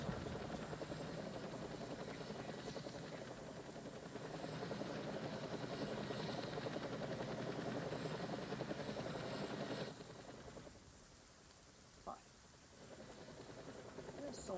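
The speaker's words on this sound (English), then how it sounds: "Could be worth using the helicopter as a distraction." Helicopter in a combat video game, a steady rotor drone sustained for about ten seconds before it drops away, with faint talk under it.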